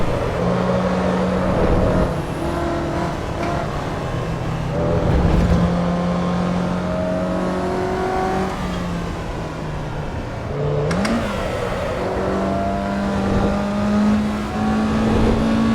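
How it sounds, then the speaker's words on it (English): The engine of a Mazda MX-5 Miata sports car races in the Assetto Corsa EVO video game, droning and rising through the gears as it shifts, with other cars faintly audible nearby. "These Miatas are supposed to be agile sports cars"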